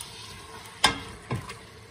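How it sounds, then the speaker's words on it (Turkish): Diced beef sizzles in a pot as it fries in its own fat, with two sharp stirring scrapes against the steady crackle. "Kendi yağında kuşbaşı etlerimi iyice kavuracağım sevgili arkadaşlarım."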